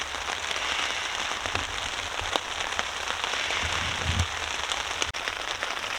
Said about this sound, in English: I don't think we'll be doing too much today if the rain stays like this.